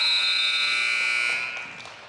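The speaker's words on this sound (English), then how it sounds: "Rebound to Haas at the buzzer." A basketball game horn blares to end the third quarter of a senior women's game, one loud, sustained electronic buzz that holds steady, then fades as crowd noise rises.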